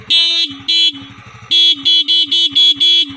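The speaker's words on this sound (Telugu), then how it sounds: "ఒకసారి హార్న్ సౌండ్ అండి, హార్న్ సౌండ్ బాగా లౌడ్గానే వస్తుంది" A loud, close TVS Jupiter 125 scooter horn blares in a series of bursts: two longer honks, a pause, then five quick toots in a row.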